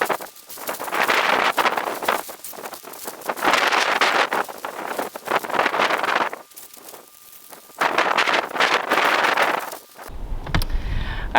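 Strong outdoor wind gusting against green fabric draped over a small backyard greenhouse frame on a raised bed, loud surging bursts of rushing noise that rise and fall, with a sharper rustle near the end.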